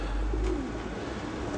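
Pigeons cooing softly while being fed scattered seed in a park, a low murmuring coo close by over a steady outdoor background.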